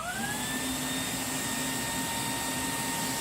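A Ryobi PBLHV704K ONE+ HP 18V brushless cordless SWIFTClean mid-size spot cleaner runs with its suction on, giving a steady, loud vacuum whine with rising motor tones that hold level throughout, alone with no voices.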